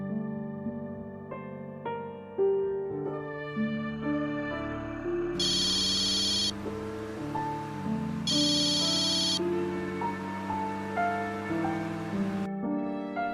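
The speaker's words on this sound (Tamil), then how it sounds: "ம் அம்மு பத்திரமா போயிட்டு இருக்காளான்னு ஃபோன் பண்ணி கேட்டுறேம்மா." Outgoing mobile phone call in a Tamil TV drama scene, with a repeating electronic ringtone over background music; two bright ringback bursts stand out midway, one after the other, with no talk.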